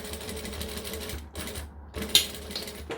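A sewing machine runs a back stitch on a Hacked Pouchles pouch, a close, steady mechanical whir with a couple of abrupt stops and restarts as it reverses direction.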